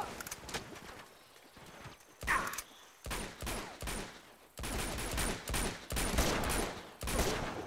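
Gunfire in the action game Uncharted 2 comes as bursts of muffled, rapid shots, with sharper single cracks and brief pauses in between, all fairly quiet.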